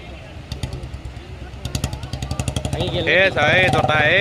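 A motorcycle engine rumbles and revs near a broken bridge in Himachal Pradesh, growing louder toward the end while voices talk over it.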